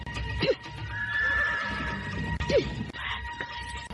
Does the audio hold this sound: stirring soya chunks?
no